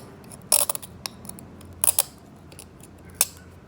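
Wood lathe turning tool shearing a spindle edge, throwing flakes: a few sharp, crisp cuts near and alone, brief bursts in a quick cluster, then another pair and a last single scrape.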